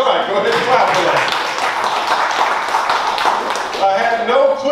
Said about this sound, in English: Go ahead and clap for that